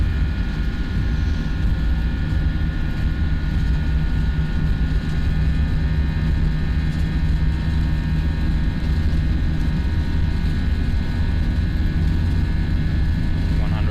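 An Airbus A319 in the Prepar3D flight simulator game, a British Airways FSLabs model, roars through its takeoff run with a constant loud, broadband jet-engine rumble sustained for the whole stretch.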